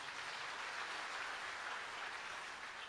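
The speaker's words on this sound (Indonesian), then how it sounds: "Ayo yang percaya boleh kasih tepuk tangan dulu." A church congregation applauds during a sermon, a steady, even wash of clapping that holds at moderate loudness from start to finish with no voices over it.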